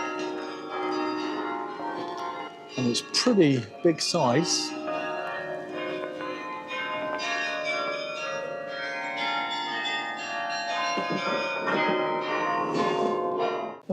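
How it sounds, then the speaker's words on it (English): Church bells ring out from a Dutch town church converted into a hotel and restaurant, several loud, resonant strikes clustered near the middle, while people talk throughout. "So the bells still work on it."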